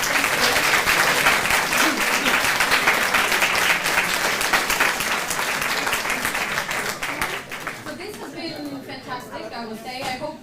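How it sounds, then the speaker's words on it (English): Sustained audience applause at a student debate event on animal testing, dense and loud at first, then thinning toward the end as voices and speech emerge over the fading clapping. "one round of applause for"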